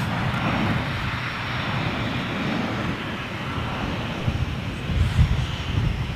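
An airplane on an active runway at London Gatwick airport produces a continuous, fairly loud engine roar with a broad rumble, steady throughout and slightly swelling near the end, with some wind noise.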